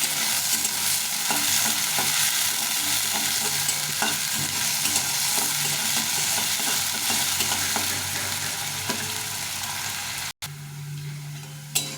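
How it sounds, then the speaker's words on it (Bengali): Potatoes fry in a pan with a constant dense sizzle and occasional stirring scrapes, steady and close throughout, then briefly drop off near the end. "আলুটাকে ভালো করে ভেজে নিতে হবে একটু প্রথমে"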